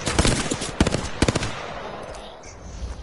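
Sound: gunfire from a gun in a video game

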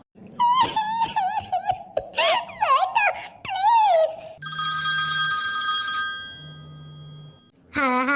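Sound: telephone ringing in a cartoon

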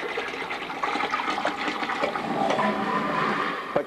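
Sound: liquid poured from a bucket into a hospital hopper sink

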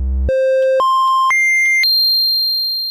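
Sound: triangle wave oscillator pitched down

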